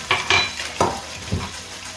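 A tempering is poured into a pan of brinjal curry, and a few short, close sizzling bursts follow, each fading fast, mixed with light stirring and pan clinks, with no voices.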